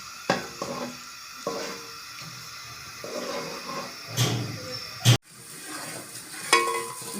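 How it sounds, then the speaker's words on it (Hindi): A spoon scrapes and stirs jaggery into a pan of sweet rice, soft irregular scraping with faint sizzling and occasional metal clinks and one sharp knock against the pan, close and quiet, no voices. "अब इसमें 1 प्याली गुड़ डाल देते हैं और इसको मिक्स करते हैं"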